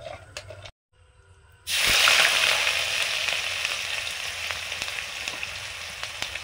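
Whole cumin and whole garam masala hit hot oil for potoler dorma, bursting into a loud, close, continuous sizzle after a brief quiet moment, then settling into a steady frying hiss.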